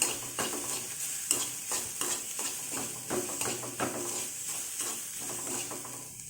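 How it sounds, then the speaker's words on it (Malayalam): A mixture for kumbil appam is stirred in a pan until it browns, with quick rhythmic scraping strokes repeating over a low, continuous sizzle. "നമുക്കിത് നന്നായിട്ട് ഇളക്കി കൊടുക്കാം. ഒരു ബ്രൗൺ കളറാകുന്ന വരെ നമ്മളിങ്ങനെ ഇളക്കി കൊടുക്കാം."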